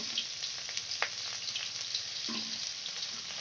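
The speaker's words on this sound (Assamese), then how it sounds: "তেলটো অলপমান গৰম হোৱাৰ পিছত পিঁয়াজ দিলোঁ। পিঁয়াজ আৰু জলকীয়া" Onions and green chillies fry in hot oil in a wok, giving a soft, steady sizzle with faint crackles and a few stirring clinks, fairly quiet and close.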